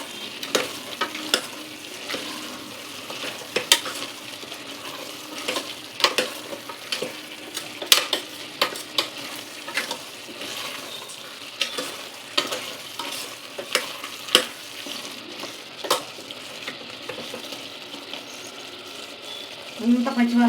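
Mutton gravy with coconut paste, tomatoes and chili sizzles and fries in a pan while being stirred, with frequent sharp scrapes and clinks of a spoon against metal over a steady close sizzle.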